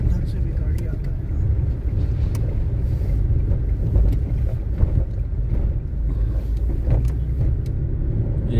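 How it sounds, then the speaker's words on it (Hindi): A car driving over a bumpy concrete road in Bhiwadi, heard from inside as a continuous, loud low rumble with wind buffeting and irregular jolts from the uneven surface. "ये सब ढलाई वाला रोड है, कंक्रीट का रोड है और इसमें गाड़ी बहुत स्मूथ नहीं चल पाता है, उछल कूद होता रहता है।"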